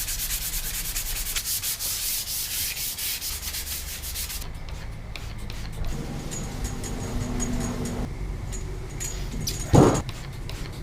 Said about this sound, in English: I'm going to hit it just with one of these sanding pads from my orbital sander, just some 150 grit